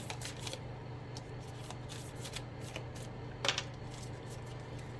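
Oracle cards are shuffled quietly close by in a tarot reading, with soft riffling flutters and slaps repeating irregularly over a faint background hum.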